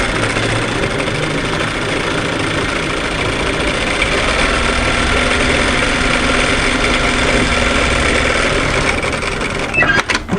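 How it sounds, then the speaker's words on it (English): A sewing machine runs continuously, stitching along the folded edge of a pleated maxi wrap dress. The loud, even motor whir holds steady for about ten seconds, then cuts out abruptly near the end. "I'm going to sew a line of stitching on the fold edge just in from"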